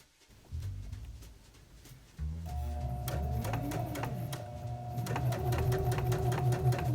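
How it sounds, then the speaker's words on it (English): A sewing machine stitches the inner leg seams of cosplay trousers in close, steady mechanical runs, starting and stopping briefly before settling into a continuous whirring stitch rhythm. "sewing the inner leg seams, aka the first bit of construction"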